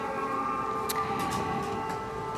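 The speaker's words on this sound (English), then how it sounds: "We have a siren now." An air raid siren sounds steadily near a lake around Lviv, Ukraine, its sustained tone holding at a moderate, even level throughout with a faint background hiss.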